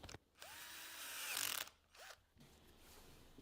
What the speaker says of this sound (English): Using a standard drill.